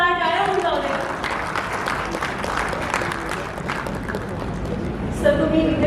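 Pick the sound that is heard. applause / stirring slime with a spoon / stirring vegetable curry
applause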